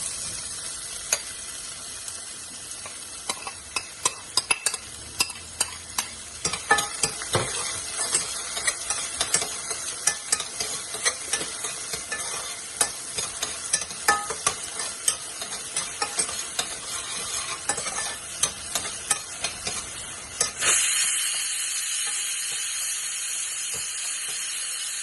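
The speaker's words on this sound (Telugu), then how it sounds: "ఆనియన్స్ ని కొంచెం వేగనిద్దామండి" Onions frying in a pan for a simple spinach curry, a continuous close sizzle peppered with frequent sharp crackles and occasional stirring scrapes, later settling into a smoother steady hiss.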